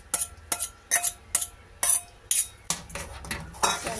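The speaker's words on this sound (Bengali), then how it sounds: "এটাকে খুব ভালো করে নাড়বো" Mango pulp and rice stirred in a metal pot, a spoon scraping and clinking against the sides in a steady rhythm of about two strokes per second, close and clear with no talk.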